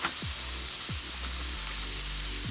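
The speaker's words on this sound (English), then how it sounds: "Now let's get our sausage patty on here." A sausage patty sizzling on a Blackstone griddle, with a steady loud hiss filling the background and a few low thumps as the patty is pressed and moved, close up with no talking.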